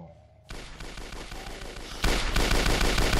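Video game gunfire in R2DA rattles in rapid automatic bursts, starting abruptly and growing louder and denser partway through, with no talk over it.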